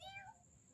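A cat meows, a short rising-then-falling call up close, over a low rumbling background while people sit resting in a dim abandoned place.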